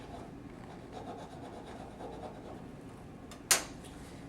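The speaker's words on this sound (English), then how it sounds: "just fold the wings in as tight as you can. And burnish." Folded cover flaps being burnished flat during a book repair: a steady, close dry rubbing and scraping that runs continuously, then one sharp, loud tap or snap near the end, with no talking.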